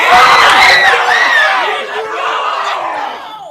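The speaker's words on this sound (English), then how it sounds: "The crowd is going crazy" Loud wrestling arena crowd roars and shouts in a sustained wall of cheering, swelling at the start and easing slightly before rising again, with excited yells piercing the din.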